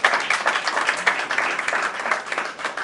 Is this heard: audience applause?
yes